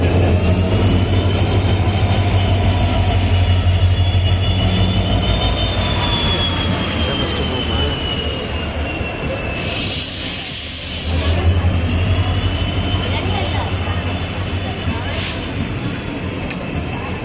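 An Intercity Express passenger train rumbles past close by with continuous heavy noise, wheels squealing in long whining tones and a hiss burst midway; no clear talking.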